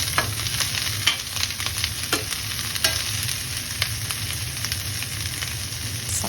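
Carrots and scrambled egg being stir-fried in a pan, a continuous sizzle with scattered scraping and tapping of the utensil against the pan, close and steady.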